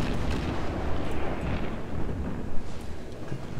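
Warship guns firing in the naval video game World of Warships, a dense rumbling barrage of deep booms and explosions rolling continuously with a few louder blasts standing out.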